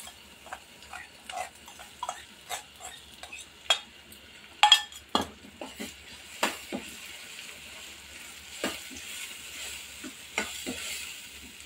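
Mashed boiled peas being stirred into softened cooked tomatoes in a pan for homemade pani puri filling, with a spoon scraping and clinking against the pan in irregular taps over a soft sizzle, fairly faint and without talk.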